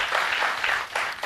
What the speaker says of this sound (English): Let's give a big round of applause to Divan.